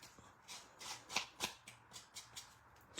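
Scissor blades scrape along the edges of paper card to distress them, a string of quick, quiet scratchy strokes up close, several sharper than the rest.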